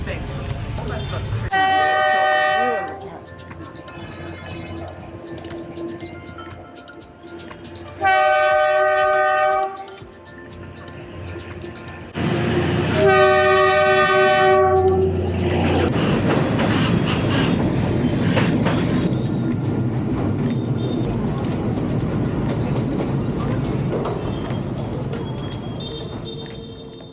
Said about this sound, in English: But the train is really long, much longer than expected.